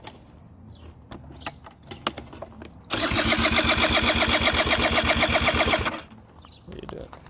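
A Spree electric-assist scooter's small engine is started and runs steadily for about three seconds, a loud, rapid buzzing putter close by, then cuts off, with low background noise before and after.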